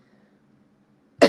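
One sharp, loud cough breaks a near-silent stretch, close to the microphone, and ends quickly.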